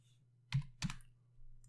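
Two quick, quiet key presses on a computer keyboard, close up over a faint steady hum, followed by a soft rustle.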